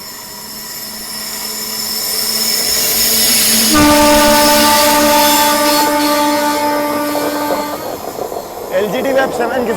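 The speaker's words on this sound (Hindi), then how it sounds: "फाइनली कर्नाटका संपर्क क्रांति एक्सप्रेस से हमारी क्रॉसिंग होने वाली है।" The Karnataka Sampark Kranti Express passes on an Indian railway line with a loud, building rumble and hiss. Sustained tonal horn-like notes ring out through the middle, and a rattling clatter follows as it goes by.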